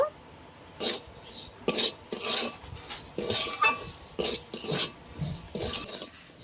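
Semolina roasting with sugar in a pan, a spoon scraping and clinking against the metal in repeated bursts of stirring, close and with no talk.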